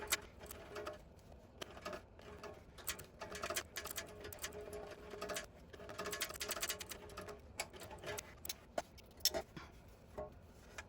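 A sewing machine stitches through lining fabric in a fairly quiet, fast run of rapid ticking and needle clatter, uneven in density and continuing the whole time.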